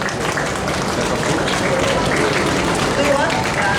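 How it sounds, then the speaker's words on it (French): An audience at the Mangalaxy 2022 cosplay contest prize ceremony applauds a winner, with steady, loud clapping throughout and talk over it. "On l'applaudit bien fort."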